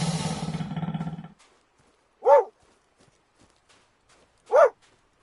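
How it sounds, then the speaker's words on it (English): A dog barking at the TV indoors gives two single sharp barks a couple of seconds apart, fairly close and loud, after a burst of loud TV sound that cuts off at the start. "That's my dog barking at the TV."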